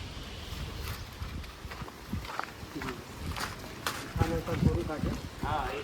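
Cow hooves clop on hard ground in an uneven walking rhythm, mixed with people chatting nearby and general outdoor noise.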